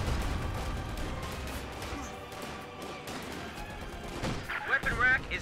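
Rifle and machine-gun fire rattles continuously through a Company of Heroes 2 battle, dense bursts under a busy mix of game sound with a louder cluster of shots near the end.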